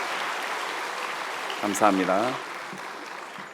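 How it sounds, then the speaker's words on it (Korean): Steady applause from a large audience at a winter camp concert continues throughout, with someone briefly speaking over the clapping. "우리 큰 박수로 다시 한번 격려해 주시기 바랍니다"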